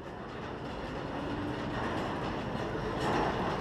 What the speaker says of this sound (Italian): Il treno va a fare manovra al treno.